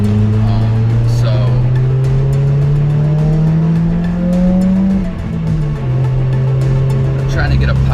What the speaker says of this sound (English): I'm trying to get a pop out of this exhaust.